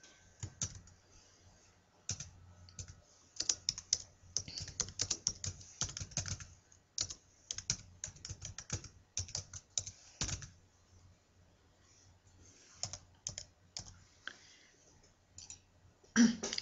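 Computer keyboard typing in quick irregular bursts of sharp clicks with short pauses between runs, fairly close and quiet, with a faint cough-like sound near the end.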